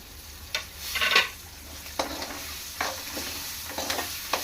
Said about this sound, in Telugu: నెక్స్ట్ కట్ చేసి పెట్టుకున్న అల్లం, పచ్చిమిర్చి ముక్కలు వేసుకుందాం